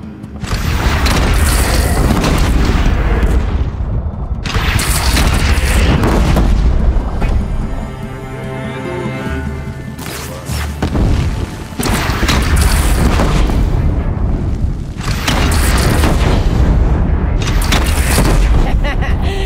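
Heavy cannon fire in the game Horizon Zero Dawn, with loud, deep booms and rumbling blasts arriving in dense bursts and a short lull partway through, while a character speaks amid the battle.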